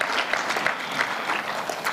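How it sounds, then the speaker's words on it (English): An audience at a trade and investment conference applauds steadily, a dense, even patter of many hands clapping throughout. "can you please clap their hands for them because they traveled far to be with us today"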